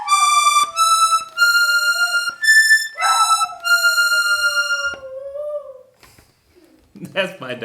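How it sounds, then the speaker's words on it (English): A pet dog howls with a wavering, sliding pitch over steady accordion tones from a Hohner Corso diatonic tremolo accordion playing scales nearby, the howl rising and falling for several seconds before the instrument pauses. "That's my dog."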